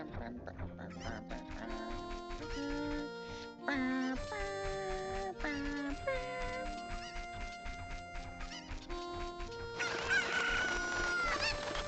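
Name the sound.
chicken clucking in a 1998 video game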